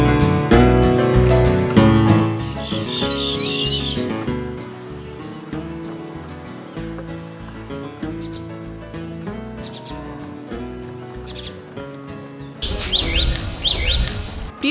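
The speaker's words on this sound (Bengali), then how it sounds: "গায়ক পাখিদের সুমধুর কণ্ঠ শুনতে হলে" Songbirds chirp and trill in short bright bursts, scattered through the clip and partly buried under louder melodic background music, with no voices.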